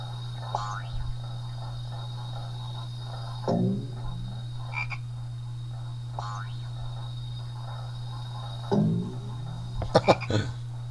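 Cartoonish frog croaks from a bouncing frog in a game during a live stream, a few short separate croaks spaced apart over a constant low hum, with brief bright boing-like blips.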